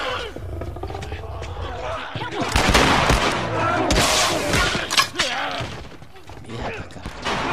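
Loud bursts of gunfire and chaotic crashing noise in The Last of Us video game, with shots cracking amid roaring creature sounds and shouting voices.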